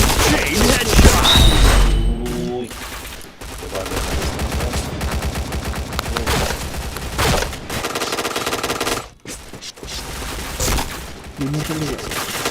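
Sustained automatic gunfire in the online shooter Point Blank, loud and rapid, with short gaps and overlapping game sound effects, while a voice speaks over the shooting.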